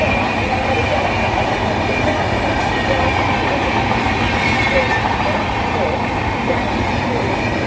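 A passenger train pulls in alongside platform 4 at Charlapalli railway station, a loud, steady rumble of wheels and carriages filling the whole stretch without a break.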